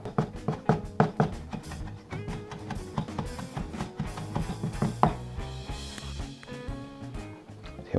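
A knife on a cutting board finely chops bamboo shoots for dim sum filling, giving rapid, uneven, close knocks in quick bursts with brief pauses between them.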